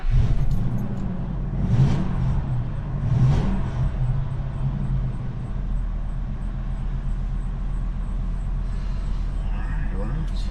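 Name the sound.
engine of a 2001 Fleetwood Southwind motorhome starting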